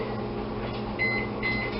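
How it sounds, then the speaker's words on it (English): Microwave oven humming steadily as it melts two tablespoons of butter, a close continuous drone with a few faint high beeps near the end. "So I'll use my microwave."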